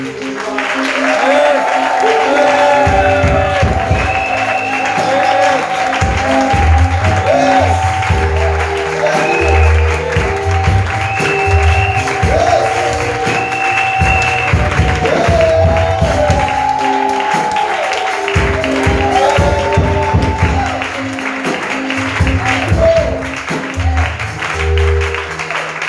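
A church congregation claps and cheers in acclaim, sustained applause and crowd voices rising together over music, loud and continuous.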